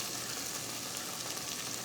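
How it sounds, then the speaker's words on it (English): Chicken pieces laid into a pan over high heat sizzle and crackle loudly and steadily, a dense continuous frying hiss close up, with no talking. "I have my pan over high heat, and I'm just going to lay my chickens in"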